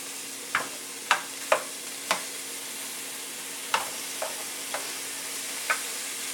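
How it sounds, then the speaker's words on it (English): Meat for chop suey fries in a pan with a constant soft sizzle, broken by sharp, irregular scrapes and clacks of a utensil stirring about eight times. "Our meat is in our pan. I'm going to just let it cook off"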